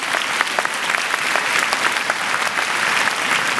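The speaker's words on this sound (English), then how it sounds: "Please clap a big hand, a big applause to Amway." A crowd at a Hong Kong Amway event claps steadily for several seconds, dense and even, loud throughout with no voices over it.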